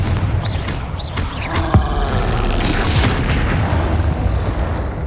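A Bombarda spell blasts in the video game Hogwarts Legacy, a loud booming explosion near the start and then rumbling, crackling combat noise. Other sharp bursts and a sweeping magical whoosh run alongside it.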